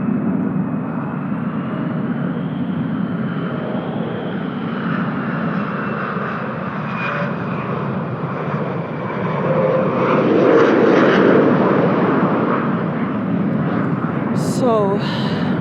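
Propeller airplanes flying overhead, a loud steady engine drone that swells slightly toward the end, heard close with someone talking over it and a few brief bird chirps near the end.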